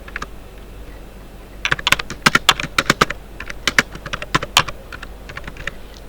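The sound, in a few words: typing on a computer keyboard to write HTML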